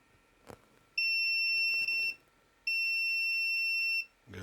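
Multimeter continuity-test beeps while probing a diode during a guitar overdrive pedal repair: two steady, fairly loud high-pitched tones, each about a second long, separated by a short gap, over a quiet background.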